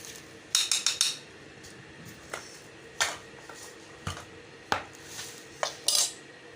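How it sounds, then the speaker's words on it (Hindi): A spoon mixes spice masala into a mixed vegetable pickle, giving a series of close metallic clinks and scrapes against a dish, some in quick clusters and others spaced about a second apart. "अच्छी तरह से इसको मिक्स कर लें ताकि सारे अचार के ऊपर मसाला लग जाए।"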